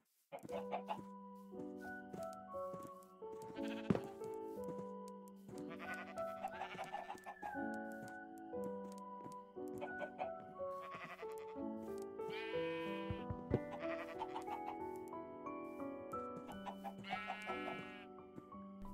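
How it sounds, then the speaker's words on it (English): Minecraft chickens cluck in a dense overlapping chorus of short clucks mixed with sheep-like bleats, layered over soft melodic game music, with no voices. "we're gonna try to take some chickens too"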